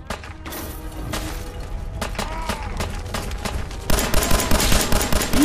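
Rapid gunfire from Fallout 4 on PS4 rattles out in dense bursts of sharp, close shots, growing heavier and louder toward the end, with game sounds in the background.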